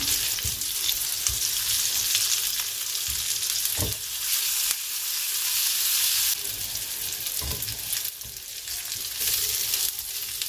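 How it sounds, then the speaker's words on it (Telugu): Kapuria pieces frying in a spiced oil tempering, a loud, continuous close sizzle with bursts of crackle and a few stirring knocks. "దీంట్లో 1 by 1 మనం కట్ చేసి పెట్టుకున్న ఈ కపూరియా పీసెస్ వేసేస్తున్నాను."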